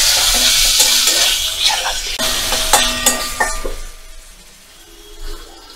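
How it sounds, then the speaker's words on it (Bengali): Paneer pieces drop into hot oil with ginger paste, bursting into a loud sizzle while a spatula stirs and clinks against the pan; the frying noise fades somewhat toward the end. "এবার আমি পনিরগুলো দিয়ে দেব।"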